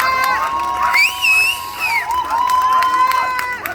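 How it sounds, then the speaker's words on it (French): Crowd at a vintage pin-up contest in Berre cheering and clapping for a candidate, with whoops and shouts rising and falling over steady applause and a voice over the noise. "Applaudissez-la."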